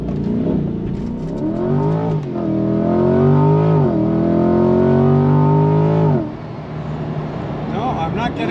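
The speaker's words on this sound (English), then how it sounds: "It's too much tire spin. The tire is spinning a lot." Chevrolet C8 Corvette launching with launch control and heavy tire spin, a loud engine roar climbing in pitch through gears and then dropping away, heard from inside the car.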